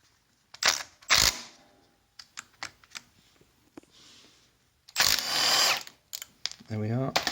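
A torque gun on a 160cc Chinese pit bike fires in short, sharp whirring bursts to spin a nut off, with clicks and clanks of handling between them and some brief talk nearby.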